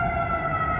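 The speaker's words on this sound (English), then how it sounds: "Here comes an ambulance." Ambulance siren wailing in a city street in Chicago near Millennium Park, a steady loud tonal wail close by with traffic noise underneath.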